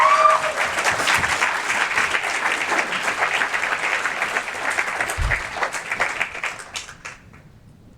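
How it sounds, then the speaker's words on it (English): An audience at a startup talk applauds, a dense burst of clapping that holds steady and then fades out over several seconds. "give him a big round of applause"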